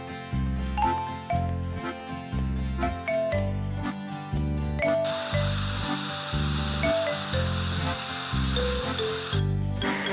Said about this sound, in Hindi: चलिए मशीन पर झाग लगाना शुरू करें।